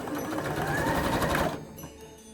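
A sewing machine stitches around a fabric ruffle stocking, its loud, close, rapid mechanical whir running steadily for about a second and a half before stopping abruptly, leaving only quiet room sound.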